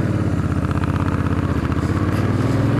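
A motorcycle engine runs loudly and close as the rider struggles to shift into first gear, giving a throbbing, pulsing rumble that holds steady throughout.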